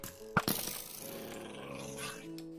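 A dog in the game Minecraft Hypixel SkyBlock gives a faint, low growl after two sharp clicking hits, with a soft rumble trailing off and a quiet tone hanging in the background.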